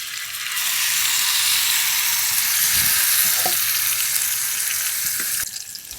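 Semolina batter with curry leaves frying in hot oil, a steady, loud hiss of sizzling bubbles that runs nearly the whole time, with a few soft stirring knocks and no talk.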